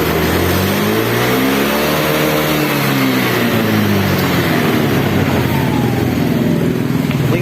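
A Honda Beat FI scooter engine revs steadily up close, a loud continuous motor drone with rising and falling pitch, heard alone without talk.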